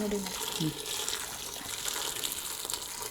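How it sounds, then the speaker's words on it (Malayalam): Boiling water is poured onto rice in a pot while cooking mutton makboos, a steady, close gushing rush that runs without a break from start to finish. "തിളച്ച വെള്ളമാണ് ഒഴിക്കേണ്ടത്."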